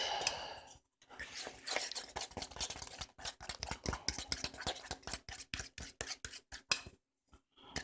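A fork stirs and scrapes Oreo brownie mix in a bowl, giving quick, repeated scraping strokes that speed into a rapid rhythmic clatter, close and fairly quiet, with brief pauses between bursts.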